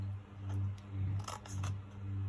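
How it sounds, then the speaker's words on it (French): Small scissors snip paper to bevel the folds of a scrapbooking gift box, a few quick crisp cuts spaced irregularly over a low steady hum, close and quiet. "je prends ma petite paire de ciseaux et je vais donc biseauter"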